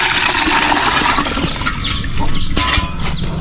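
Water pours and splashes steadily while a cow's udder is washed before milking on a farm, a loud, continuous gushing wash with faint bird and animal sounds behind.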